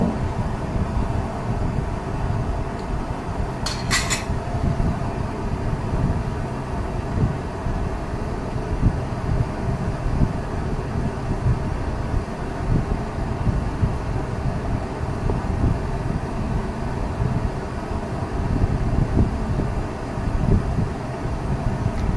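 A kerosene primus stove burning under a frying pan gives a steady, continuous roaring hiss throughout, broken once by a short, sharp clatter early on.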